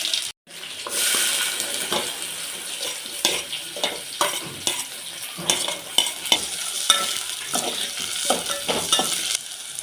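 Mustard seeds and cumin fry in oil in a pot, giving a close, continuous sizzle broken by sharp crackling pops and stirring scrapes, with no talk over it.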